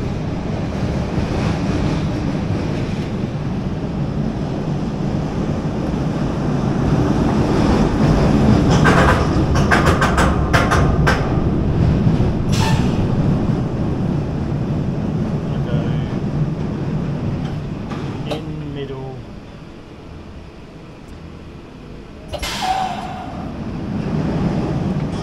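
A roller coaster train rumbles into the final brake section and slows through pneumatic brakes: a loud, windy roar with sharp hissing bursts in the middle and again near the end.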